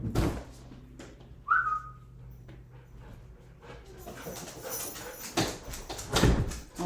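Dog whimpering and giving short barks at close range, with a whine-like tone early on and rustling, door-like noises, then louder bursts near the end.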